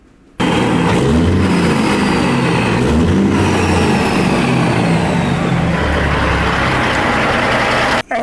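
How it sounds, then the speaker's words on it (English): A Caterpillar 3406E diesel truck engine in American Truck Simulator runs loud and steady, with a brief throttle rise and fall in the middle before settling back down. "it's just a clip of a 3406E doing a throttle blip"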